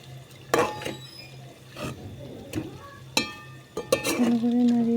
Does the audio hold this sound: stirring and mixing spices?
yes